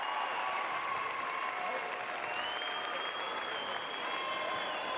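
A high school state volleyball championship crowd applauds and cheers steadily, a broad wash of clapping filling the gym throughout with a few whistles rising above it.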